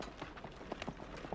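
Horse hooves clip-clopping in a period drama scene, a handful of light, irregular hoof strikes at moderate distance with no talking.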